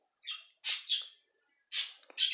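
Small birds give a few short, sharp chirps close by, separated by brief silences, with no talk.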